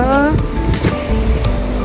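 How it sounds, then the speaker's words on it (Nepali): Cold wind blows steadily past the microphone outdoors, a continuous rushing roar under a person talking. "हावा पनि चलिरहेछ कि लास्टै चिसो हावा छ"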